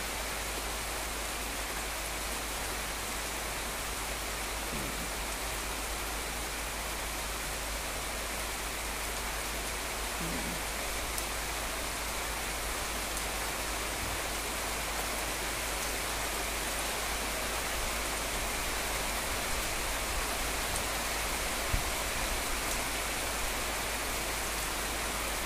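Very heavy rain falls on a flooded home garden as a thick, constant wash of noise, steady and close for the whole stretch, with only faint scattered drips standing out and no talking.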